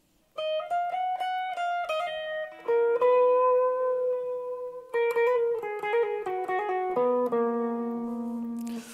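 Electric guitar playing the lead riff from the IBC version of Nadie Como Tu, a melodic run of clean, sustained single notes that slide and step between pitches, loud and close with no talking.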